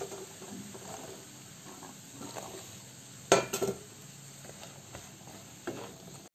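Taro stolons tipped into a watery spice paste in a frying pan, with a brief clattering burst midway over a quiet, steady background hiss.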